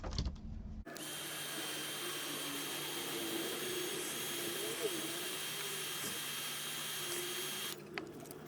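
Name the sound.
heat gun drying craft paint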